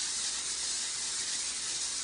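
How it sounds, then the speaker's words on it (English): A steady, close hiss of cooking spray from an aerosol can sprayed into a pan, continuous for about two seconds with no voices. "spray it pretty generously with some the cooking spray"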